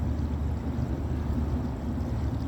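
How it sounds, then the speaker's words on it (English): Water rushes steadily out of an RV waste tank as it flushes paper from inside, a continuous low gushing flow with no breaks. "it's flushing the paper and stuff out of there"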